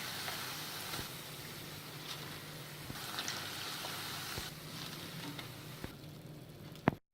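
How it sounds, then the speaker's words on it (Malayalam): Cauliflower pieces frying in hot oil, a steady close sizzle with occasional pops and crackles, ending in a louder clatter. "ഇതുപോലെ ബാക്കിയുള്ള കോളിഫ്ലവറും കൂടി നമുക്ക് ഫ്രൈ ചെയ്തെടുക്കാം."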